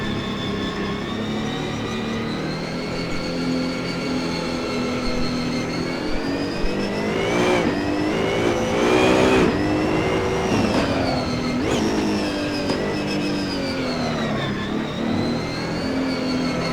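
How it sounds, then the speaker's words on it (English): A BMW M4 in a racing video game revs and accelerates on track, a loud, continuous engine tone rising and falling through gear shifts, with a couple of brief rasping bursts; no voices. "Warm my tires up a little bit. This is the BMW M4."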